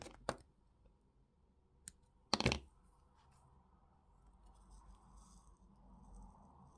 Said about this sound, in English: we need to cut off this bit of weaving wire only from the beginning